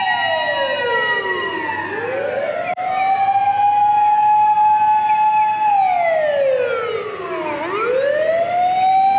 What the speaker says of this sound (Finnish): Sinne meni Koben paloauto.